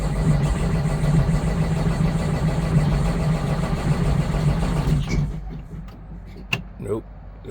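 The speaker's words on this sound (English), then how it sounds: "Let's see it go and try and fire up now." An engine cranks repeatedly after work on a fuel water separator, a loud, rhythmic churning for about five seconds that fails to catch and stops, followed by a few faint clicks and knocks.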